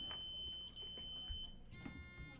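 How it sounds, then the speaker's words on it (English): An electronic quiz answer buzzer is tested by a team at an academic quiz bowl: a faint, steady electronic tone holds for over a second, then a higher, brighter beep follows, quiet against room noise. "Blue team, can you test your buzzers?"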